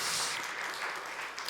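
A church congregation applauds during a New Year's Eve service in a Korean church, a brief, steady patter of many hands clapping at moderate volume.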